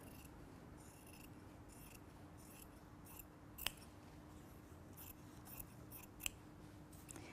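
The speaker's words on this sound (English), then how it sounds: "So I'm going to cut away this excess fabric." Scissors snipping away excess fabric on a dress form, faint close cuts in a loose irregular rhythm with a couple of sharper clicks over a quiet hum, no talking.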